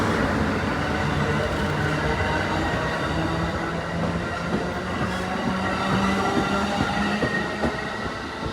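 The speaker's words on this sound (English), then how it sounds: "It's kind of cool seeing an Amtrak train departing a station at night while being so close to it." An Amtrak Auto Train pulls out of a station at night, heard from close by. A steady low rumble of rolling wagons carries faint wheel squeals and rhythmic clicks throughout.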